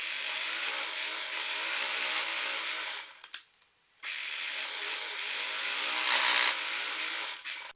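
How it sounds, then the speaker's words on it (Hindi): An electric sewing machine stitches decorative lines along the lower edge of a salwar. Its steady, bright motor whir runs continuously, stops briefly near the middle, then resumes at the same level. "अब हम इसकी नीचे की तरफ यहाँ पर लगा लेंगे सिलाई।"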